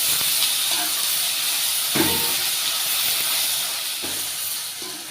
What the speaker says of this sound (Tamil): தக்காளி வதங்குறதுக்கு உப்பு சேர்த்துக்கிறேன் சேர்த்துட்டு இப்போ நல்லா வந்து வதக்கி விட்டுடலாம்